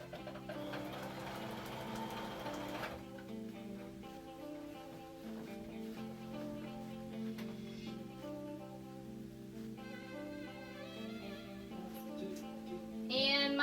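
Sewing machine stitching through three layers of quilt fabric and two layers of insulation: a steady, fast mechanical whir with rhythmic needle clatter, close and fairly quiet, running continuously with slight changes in speed.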